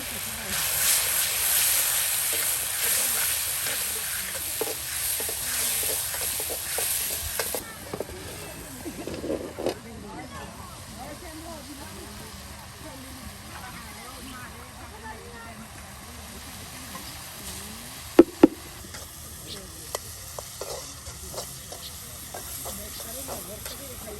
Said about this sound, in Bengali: সকল প্রকারের আপনার মশলা দিয়ে কিন্তু বেশ সুন্দর করে মশলাটাকে কষানো হচ্ছে।